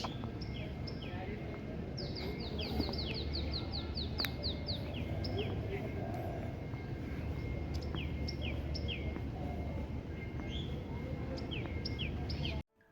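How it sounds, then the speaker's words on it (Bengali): Birds chirp and tweet in repeated short bursts on an early morning walk at a resort park in Bogura, fairly faint over a steady low outdoor rumble throughout. "পাখির কিচিরমিচির শব্দ"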